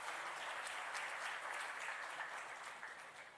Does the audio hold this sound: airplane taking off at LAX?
no